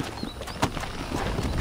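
Horse hooves clip-clop in a quick, uneven gait in the Red Dead Redemption video game, fairly close and moderately loud, with no speech over them.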